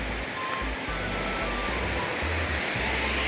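Dhodhani waterfall near Panvel heard from a distance as a steady, broad rushing roar, constant and unbroken, with low wind rumble underneath.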